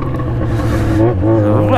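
A Yamaha XJ6 motorcycle engine revs loudly up close, its exhaust note climbing and dropping over a steady rumble, with people talking over it.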